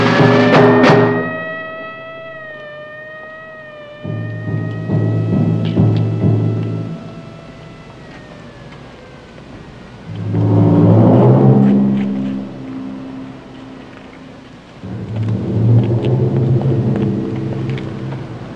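A car drives across town, with engine rumble and tonal revving swelling and fading in several passes like a radio drama effect, loud and alone.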